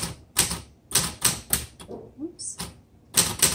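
A 1973 Facit vintage typewriter clacks under testing, its keys struck in sharp, close strokes in short runs with a small bell-like ping, and a voice speaks briefly midway.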